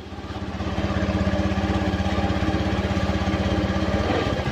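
A Honda Beat motorcycle engine starts, rises over the first second and then runs at a steady, fast, throbbing idle. It stays close and loud throughout, with no speech.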